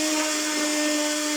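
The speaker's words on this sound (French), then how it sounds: "maintenant que j'ai rajouté la lessive de soude dans les huiles, nous allons mixer" Hand blender whirring steadily as it mixes lye into oils for homemade soap, a loud, close, continuous high-pitched motor whine with no talk.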